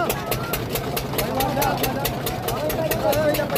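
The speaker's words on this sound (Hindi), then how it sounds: "ये देखिए स्टार्ट हो गया इंजन" A boat's engine runs steadily on the Saryu river with a rhythmic low throb and regular ticking pulses, loud and close, while someone talks over it.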